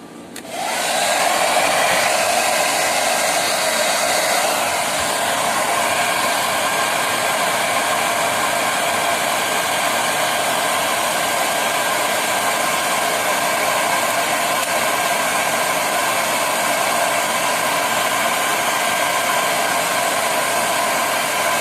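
A blower dries freshly cleaned parts of a split air conditioner, giving a loud, steady rushing roar that starts abruptly and holds for over twenty seconds, alone with no voices.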